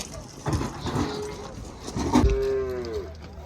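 Cattle at a livestock market give a couple of low, drawn-out moos, the second longer and rising, close by amid quiet background murmur and handling noises.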